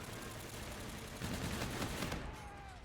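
Bursts of automatic gunfire in the video game Call of Duty: Infinite Warfare multiplayer, rapid repeated shots over a dense layer of game noise and music, fairly quiet in the mix, with no talking.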